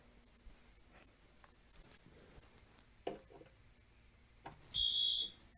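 Simplex 4010 fire alarm panel giving a single short, faint electronic pulse during a detector walk test, heard near the end against quiet handling noise.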